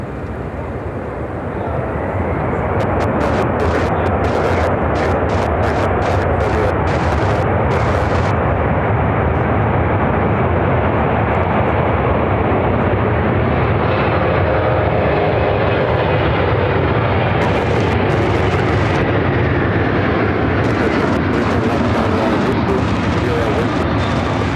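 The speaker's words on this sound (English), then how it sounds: "This is Atlas Air 8468 coming in from Anchorage on a 747-400 freighter." An Atlas Air Boeing 747-400 freighter arriving from Anchorage at Chicago O'Hare roars in, a loud, heavy rumble swelling within the first seconds and holding strong, with faint crackling ticks above the engine noise.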